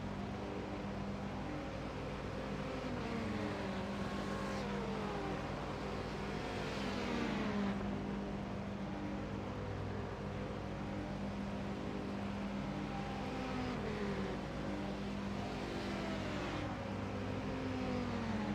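A race car in an endurance racing sim at Watkins Glen sits in the pits for fuel and tyres while its rear wheel spins. Steady engine drone runs throughout, with repeated rising and falling whines.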